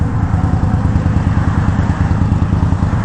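The engine of a 2021 Indian Scout Bobber Twenty motorcycle rumbles loud and close in a continuous, throbbing low drone.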